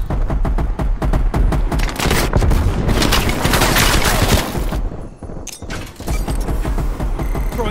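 A dense barrage of shotgun blasts and other gunfire from Call of Duty Black Ops Cold War, loud and nearly continuous, easing off with a short dip near the end before the firing resumes.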